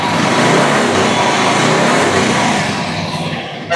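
A 2017 Royal Enfield Bullet 350cc BS4 single-cylinder motorcycle engine running loud and close right after a self start, a steady dense rumble that eases off slightly toward the end.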